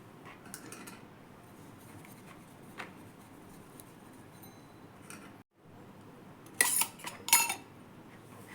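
A metal chakli press is handled and oiled in a kitchen, with soft rubbing and then a cluster of bright metallic clinks and taps near the end, close by.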